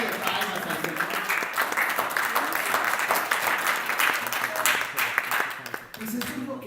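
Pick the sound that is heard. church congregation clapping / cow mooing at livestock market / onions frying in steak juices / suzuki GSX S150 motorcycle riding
church congregation clapping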